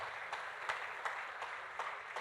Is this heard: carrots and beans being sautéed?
no